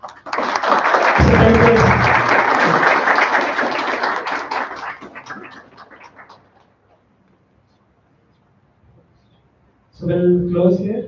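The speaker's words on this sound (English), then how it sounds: "Let's thank them by a round of applause." A devotional gathering's audience claps in a loud, dense round of applause that swells quickly, holds for several seconds and fades out, leaving near silence before a voice resumes.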